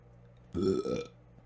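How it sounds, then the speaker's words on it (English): A single loud, gurgling burp after eating popcorn, short and close, rising abruptly out of near silence. "Don't eat popcorn on stream unless you want to burp disgustingly."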